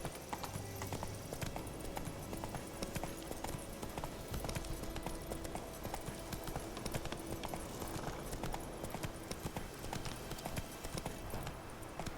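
Horse hooves clip-clop steadily in a video game, a loud, even rhythmic trot running throughout with an occasional whinny in the background.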